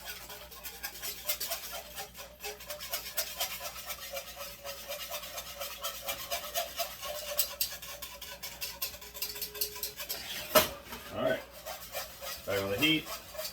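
A whisk scrapes briskly through a lumpy flour mixture in a pot for chili to break up the clumps. The rasping is close and continuous, with a few louder knocks against the pot near the end.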